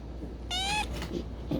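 A single short, clear meow from a cat at a cat shelter, close by and fairly quiet against a low background hum.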